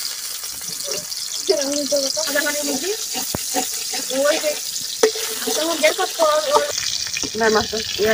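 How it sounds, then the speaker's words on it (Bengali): Fish fries in a pan with a steady, loud hiss and crackle that runs throughout, along with a few utensil knocks, while a person talks over it nearby. "আমি মাছটা ভাজি করে নেব।"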